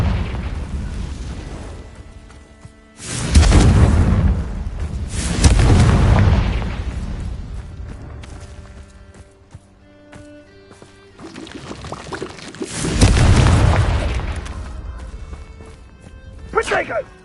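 Fiery Confringo spell blasts in the Hogwarts Legacy video game: loud booming bursts that come in heavy waves, with quieter spell effects and background game sounds between them.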